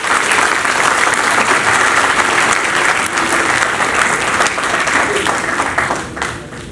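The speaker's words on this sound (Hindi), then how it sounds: "तो अभी आप अपने लिए जोरदार तालियां बजाकर अपने आप का स्वागत कीजिए।" A large crowd at an Ayurveda emergency-management seminar in Bathinda claps loudly and steadily for several seconds, then tapers off slightly at the end.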